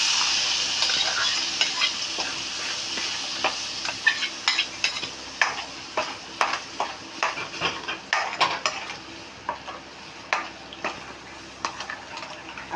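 Ground spice paste sizzling and frying in a pan for an egg curry, with steady crackle and repeated scraping stirs of a spoon against the pan, close and fairly loud with no talk.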